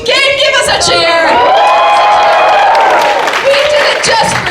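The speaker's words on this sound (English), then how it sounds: "Give us a cheer" A live studio audience at a game show cheers loudly and close, with whoops and sustained shouting voices blending into one continuous roar.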